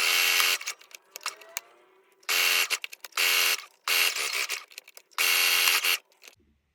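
Sewing machine running zigzag stitching along a fabric edge while making a jumpsuit, with four or five loud, steady bursts of whirring motor and needle clatter separated by short pauses and quiet handling noises.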